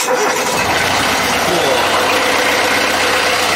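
A boat engine catches without preheat and settles into a steady, close idle with a low rumbling hum throughout.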